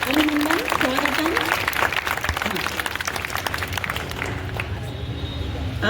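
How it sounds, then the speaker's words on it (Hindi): Loud applause welcomes a guest at a Guru Purnima fortnight gathering, a dense steady wash of clapping that runs the full length with a voice speaking over it. "जोरदार तालियों से उनका अभिनंदन, स्वागतम।"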